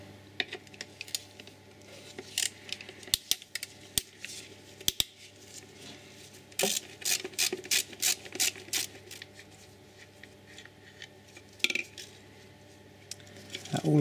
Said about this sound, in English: So let's get some of these bolts removed.